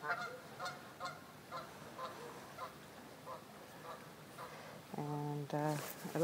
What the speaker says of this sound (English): those little geese are singing along.